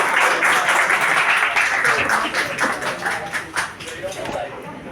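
Audience applause at an Amnesty International Malaysia civil society event: a dense wash of clapping that starts loud, thins toward the end, and sits under a voice speaking over it.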